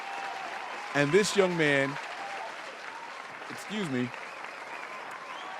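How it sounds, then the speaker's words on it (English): A short applause sound effect drops into a 49ers draft-grading podcast, a faint spread of clapping sitting low under a voice that talks over most of it. "I got to get a shorter applause put in here"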